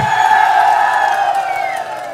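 A crowd cheering and whooping at a political rally in Khotang, a loud, sustained roar of many voices that slowly fades over two seconds.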